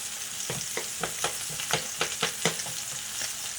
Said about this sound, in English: Alright, so the fried rice, we're gonna stir.